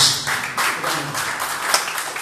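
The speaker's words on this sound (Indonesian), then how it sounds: "tepuk tangan bagi Yesus" Church congregation clapping together after a sermon call to applaud, a steady rattle of many hands filling the room at moderate loudness for a couple of seconds.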